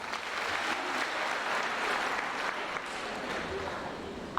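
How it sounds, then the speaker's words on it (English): A seated audience gives a steady round of applause, a dense, even patter of many hands at moderate volume that holds unbroken from start to finish. "May we just give you a round of applause."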